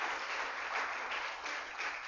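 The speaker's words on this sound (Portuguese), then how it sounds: "Dê uma salva de palmas a Deus" Congregation at a church service applauding, a steady wash of many hands clapping together at moderate distance with no voices standing out.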